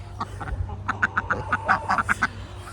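Repeated bird calls, duck-like quacks in a quick uneven series, ring out close by on a farm over a low steady background hum.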